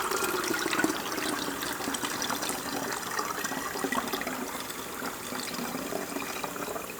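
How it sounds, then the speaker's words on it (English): Water being poured into a plastic bottle for a homemade aquarium CO2 kit, a continuous splashing, gurgling trickle heard up close at moderate volume with no talk. "I probably should use the funnel here. I'm spilling water all over the place if I do that."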